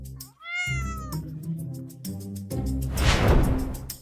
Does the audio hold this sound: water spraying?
no